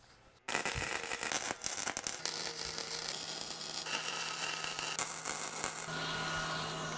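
Welding on the frame of a homemade backyard rollercoaster cart: after a short quiet start, a steady crackling, hissing arc sounds continuously over an electrical hum, with small shifts in tone.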